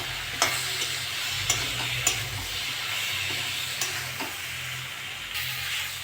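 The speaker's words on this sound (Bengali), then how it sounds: "ভালো করে কষে নেবো।" Spices and chopped tomato fry in oil in a pan for a tilapia fish curry with green banana and potato, giving a steady soft sizzle with a few sharp spoon clicks as the mixture is stirred.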